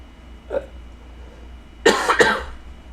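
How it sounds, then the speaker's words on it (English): A faint short cough, then a louder dry double cough a moment later, alone in a quiet room. "I've got like a dry cough now."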